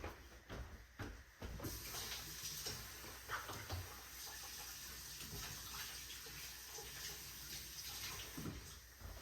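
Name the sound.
rinsing hands under running water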